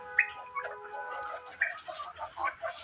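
A hen at a backyard poultry yard gives repeated clucking calls, several short bursts spread across a few seconds, fairly close and moderately loud, with other bird noises in the background.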